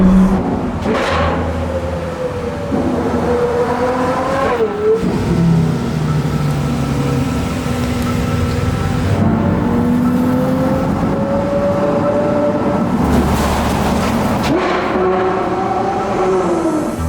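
Ferrari 812 GTS supercar fitted with a Novitec N-Largo exhaust, revving loudly and closely, its engine pitch rising and falling through repeated pulls in a tunnel on a snowy road.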